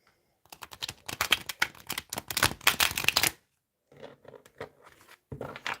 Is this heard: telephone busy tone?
no